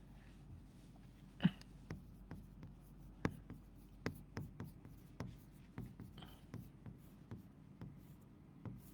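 Marker or chalk writing on a board during a chemistry lecture, a quiet series of short scratchy strokes and taps in an irregular rhythm, close and faint, with no voice over them.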